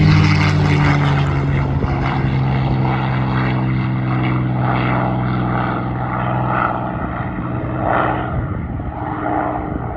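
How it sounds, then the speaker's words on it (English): A P-51 Mustang propeller fighter takes off at a WW2 air show, its engine a loud, steady, close droning roar with a strong low hum that holds throughout and slowly shifts in tone as it pulls away. "Here comes the Mustang, taking off."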